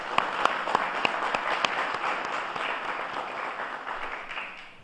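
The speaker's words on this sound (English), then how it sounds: "let's just give a round of applause to the 2022 cadet graduates" An audience at a police academy cadet graduation gives a steady round of applause, dense continuous clapping with a few sharper claps standing out near the start.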